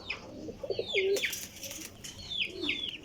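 Teddy Sialkoti pigeons cooing nearby, a few soft rolling coos mixed with brief chirpy calls and a faint flutter, over quiet background, with no voices.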